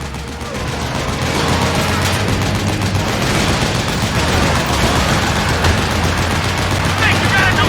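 Sustained gunfire rattles without a break against a gate in Metal Gear Solid 4: Guns of the Patriots, loud and dense automatic bursts layered over rumbling explosions and battle noise.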